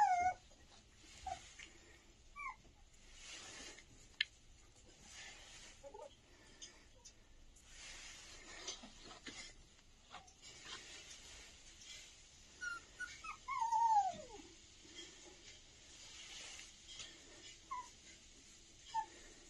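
A homesick puppy that is off its food, missing its owner, whimpers in thin, high whines at intervals, including one long falling whine, fairly close but quiet against a faint room background.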